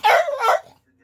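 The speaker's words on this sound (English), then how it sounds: "My dog is having a fit." A dog lets out two quick, high-pitched yelping whimpers close by, loud and back to back, then falls silent.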